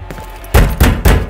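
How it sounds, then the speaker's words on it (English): Three heavy thuds from a fist pounding on a metal shipping container door in Call of Duty Modern Warfare II. The blows come in a steady, evenly spaced rhythm, loud and close. "Bang on the door, Sergeant."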